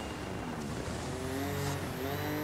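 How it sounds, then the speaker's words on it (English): Rally car engine heard from outside the car in the EA Sports WRC video game, a loud continuous roar with rising revs and a high whine, no talk over it. "I like more the sound of the engine from out here"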